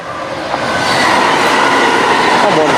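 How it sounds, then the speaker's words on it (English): A West Midlands Railway train pulls into a station, its loud, close rolling rumble building steadily with wheel and rail noise and a high metallic squeal toward the end. "Here comes the next train, West Midlands Railway service to Birmingham Street."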